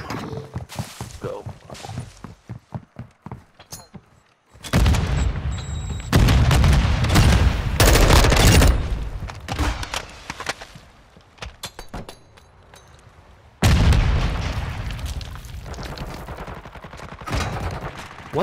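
Video game gunfire in Modern Warfare 2: bursts of rapid rifle shots crackle at first, then heavy, loud sustained firing and booming blasts come in two long volleys, with quieter stretches between.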